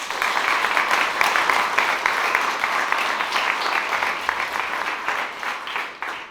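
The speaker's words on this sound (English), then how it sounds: "they deserve a big round of applause for that" An audience at a coding bootcamp demo day in Brussels gives a sustained round of applause, dense clapping holding steady for several seconds before tapering slightly at the end, with no voices over it.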